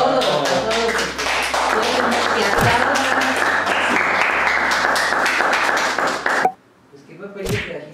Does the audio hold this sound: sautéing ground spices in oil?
no